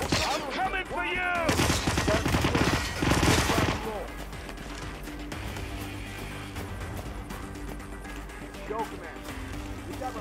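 Gunfire in the Hitman video game: a burst of rapid shots early on, then quieter stretches with ongoing game sounds and background music.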